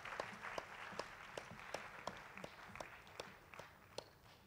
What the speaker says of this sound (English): can we just not all give a big round of applause for all the contestants?